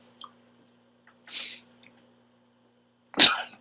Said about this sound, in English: I was mid sneeze